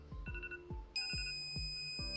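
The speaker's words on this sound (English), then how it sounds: "Now there is also an alarm on the phone." Phone alarm paired with a Knog Scout bike alarm sounds as a loud electronic ringtone, rapid repeating chimes that step into a higher, steadier tone partway through, heard alone and close.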